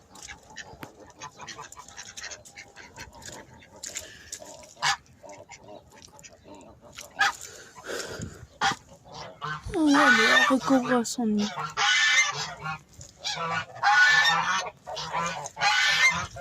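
A Guinea goose honks loudly and repeatedly at close range in harsh, blaring bursts, following a quieter stretch of rustling and soft bird sounds, with a person speaking briefly beforehand.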